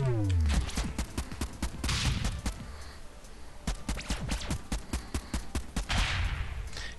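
Heavy cannon fire in the strategy game Convoy, a rapid string of sharp blasts and impacts over a dense rumbling battle background, with a descending whine at the start and a speaking voice mixed in.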